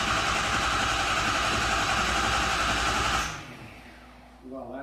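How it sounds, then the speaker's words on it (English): A 2006 Ford F250 with a 6.0 diesel cranks over in a steady, rapid rhythmic churning for about three seconds before cutting off abruptly, followed by quiet and a faint voice. "Listen to the cadence of the engine too."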